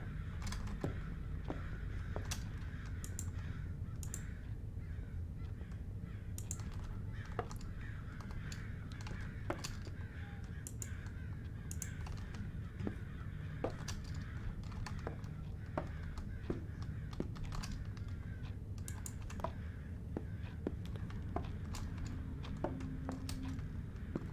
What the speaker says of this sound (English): And listen to the crows going.